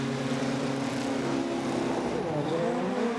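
Several rallycross cars, including Volkswagens on the front row, roar off the start line together at a World Rallycross final in South Africa, engines revving loudly with a rising, overlapping drone.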